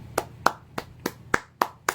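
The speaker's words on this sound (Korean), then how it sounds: "우선 축하드린다는 박수부터." Seven sharp hand claps ring out at an even, brisk pace in quick succession, close and clear against a quiet room.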